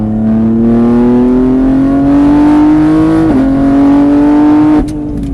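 A car on a track accelerating hard, its engine note climbing steadily loud and close, then dropping sharply twice as the driver lifts and brakes before the sound cuts off.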